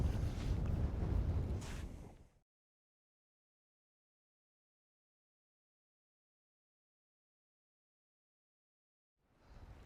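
Wind buffets a microphone in a loud, rumbling gust for about two seconds at Dillon Reservoir, then goes quiet before a faint gust returns at the end.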